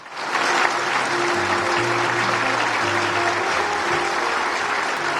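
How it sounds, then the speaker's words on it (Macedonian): Thunderous crowd applause closes memorial speeches in Štip, a dense, loud wall of clapping that swells quickly and holds steady for several seconds. "Сите говори завршуваа со громогласни аплаузи во нивна чест."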